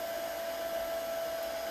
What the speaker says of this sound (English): Say hi if you can hear me over the blow dryer, so then I know.